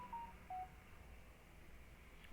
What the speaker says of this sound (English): Is that my phone telling me that I'm streaming?